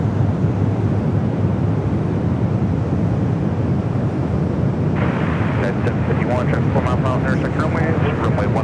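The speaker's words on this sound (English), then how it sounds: "this 777-300ER heads out to runway either 28 left or 28 right" A Boeing 777-300ER taxis out toward the runway at San Francisco airport, a steady broad jet roar with wind-like rushing throughout, joined midway by a brighter, pulsing layer on top.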